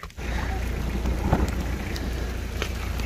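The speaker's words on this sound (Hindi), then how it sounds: "बारिश भी तेज आई गई है।" Heavy rain in Kashmir pours down steadily, a dense continuous hiss and patter with a low rumble underneath, loud and unbroken, with a few scattered knocks and thumps nearby.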